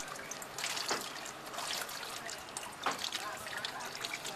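A mud mixture strained through a strainer for a Jouvert carnival in Belize, wet trickling and dribbling with a few splashy pours, heard faintly under someone talking.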